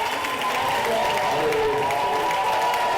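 A church congregation applauds steadily, dense clapping filling the room for a few seconds with voices mixed in beneath.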